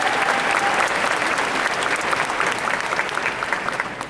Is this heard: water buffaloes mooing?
no